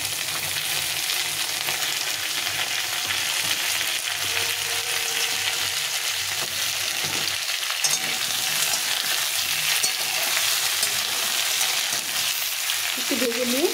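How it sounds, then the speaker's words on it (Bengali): Ridge gourd, potato and pointed gourd fry in oil in a pan, giving a dense, even sizzle that runs throughout at close range, with a few soft stirring scrapes and a brief voice near the end. "ঝিঙেগুলোকে একটু হালকা করে ভেজে নেব"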